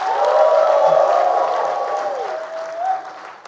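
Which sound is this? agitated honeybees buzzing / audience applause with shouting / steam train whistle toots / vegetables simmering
audience applause with shouting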